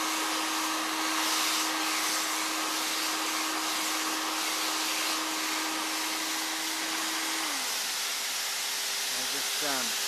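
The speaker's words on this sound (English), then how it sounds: "just turned that vacuum cleaner off" A vacuum cleaner powering a homemade vacuum former roars steadily with a constant motor whine, then winds down near the end as the motor is switched off.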